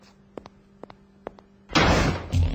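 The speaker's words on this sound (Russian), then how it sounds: "Позволь, я открою тебе дверь." In a Bratz cartoon, a few small clicks and taps from a door handle lead into a loud sliding and opening rush of the door, close and lasting about a second, with no speech.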